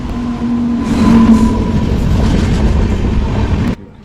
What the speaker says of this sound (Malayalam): നമുക്ക് പോകാനുള്ള ട്രെയിൻ വന്നിട്ടുണ്ട് one six three four six എന്ന നേത്രാവതി ട്രെയിനിലാണ്